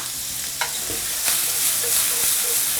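Shrimp stir-fried in a pan with garlic and dried shallot, giving a steady close sizzle with scattered scraping stir strokes and small clinks, no voices.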